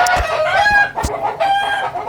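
Andaman Nicobar black chickens cluck as a rooster crows, loud and close, with several overlapping calls and crows in quick succession and no voices.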